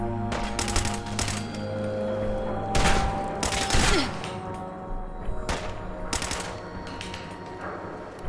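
Rapid bursts of gunfire in the video game Fallout 4 crackle loudly in repeated volleys with short gaps, fast automatic fire dominating throughout.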